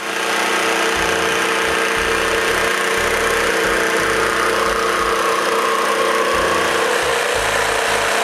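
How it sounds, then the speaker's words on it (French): A loud, steady motorized buzz of a jigsaw cutting through wood runs without pause, with a slightly wavering low rumble underneath. "puis je la coupe avec la scie sauteuse"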